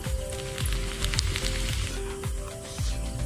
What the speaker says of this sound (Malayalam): നമ്മുടെ പാത്രം ചൂടായ സ്ഥിതിക്ക് മുട്ട നമ്മൾ പൊട്ടിച്ചൊഴിക്കുകയാണ്